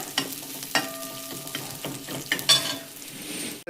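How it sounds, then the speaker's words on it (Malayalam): Shallots fry in hot oil in a pan after garlic, giving a steady soft sizzle broken by several sharp clinks and scrapes of stirring, close and moderately quiet, with no one talking. "ചെറിയുള്ളി ഒന്ന് ചോക്കണം."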